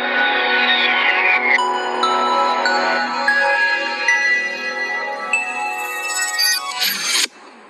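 A PowerDirector stock logo jingle: chiming bell-like synth tones with a sweeping descending note, sustained and steady for about seven seconds before ending in a sudden bright crash and quick fade.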